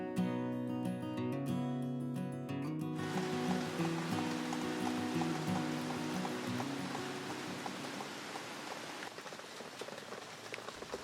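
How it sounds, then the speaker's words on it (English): Steady afternoon rainstorm pattering over a garden, a dense even hiss of drops that follows a few seconds of music at the start and slowly eases toward the end. "This afternoon, we had a much needed rainstorm, which was so great for the garden"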